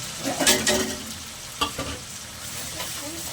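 Ground spices fry in a pan for a ridge gourd and fish curry, with close, scraping stirs and bursts of sizzling that rise and fall over a few seconds.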